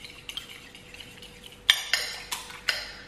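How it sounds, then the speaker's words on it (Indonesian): A utensil clinks and taps against a bowl in a few sharp strokes while wet seasoning batter for crispy parasol mushrooms is whisked, quiet and close, with no talking. "Terus ini bumbu basahnya tinggal dikocok aja."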